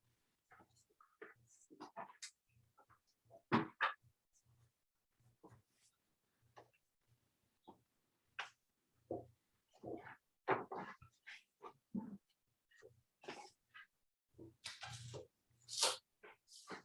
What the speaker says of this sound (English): Doggy barking. Dog barking.